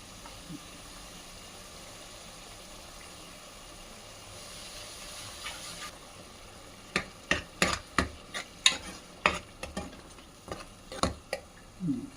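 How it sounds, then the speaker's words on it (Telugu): Ginger garlic paste frying with onions in a pan for mutton curry: a low steady sizzle, then a run of sharp, fairly close scraping and stirring clatters in the second half, with no voices. "అది కూడా వేసేసి అన్నీ కలిపి వేపించేసుకుంటాం"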